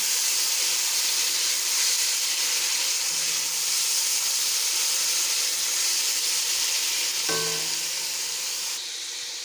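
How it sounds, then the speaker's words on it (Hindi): Garlic, ginger and green chilli frying in a pan give a steady, loud hiss and sizzle, joined by a medium tomato, with a brief clink near the end and no talk. "अब इसमें 1 मीडियम साइज़ का टमाटर है वो ऐड कर देंगे"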